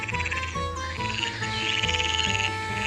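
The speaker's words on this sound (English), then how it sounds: "Some frogs make loud croaks at night." A chorus of frogs croaks in dense, pulsing calls, loud and close, with shrill trilling layered over deeper repeated croaks.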